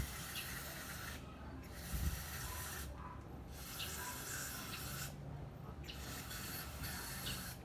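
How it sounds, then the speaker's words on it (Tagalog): Contact cleaner sprayed into a smoke sensor gives loud, close aerosol hissing in three long bursts separated by short pauses, broadband and steady. "So pwede niyo linisin yung smoke sensor gamit yung contact cleaner."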